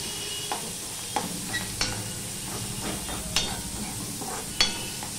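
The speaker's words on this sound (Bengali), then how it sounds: "কালো জিরেটা ফোড়ন হয়ে গেলে আমি এখানে দেখো পেঁয়াজ দিয়ে দিলাম, 1 মুঠ কুচানো পেঁয়াজ।" Chopped onion and slit green chilies fry in oil tempered with nigella seeds, giving a close, hissing sizzle broken by irregular spatula scrapes and taps against the pan. No one speaks.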